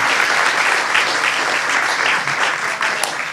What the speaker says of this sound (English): Can we give a round of applause to Randall Spackman and Thornbury Farm?